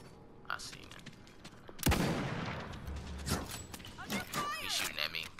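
Gunfire in the battle royale game Realm Royale: a sharp close shot followed by scattered bursts and mechanical clatter, fairly quiet overall, with players talking over it.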